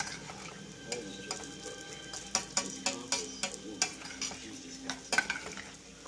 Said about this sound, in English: Stir my corn.